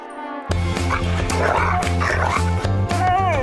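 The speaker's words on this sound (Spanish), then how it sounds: "Sí, son 16 perros." Several of the sixteen dogs on a farm in Costa Rica bark and yip in steady, repeated bursts, loud and close, continuing without pause throughout under a sustained musical tone.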